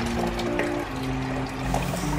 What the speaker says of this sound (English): I will do this and put it into this bag so that it will drain the water out of the pap that helps it solidify.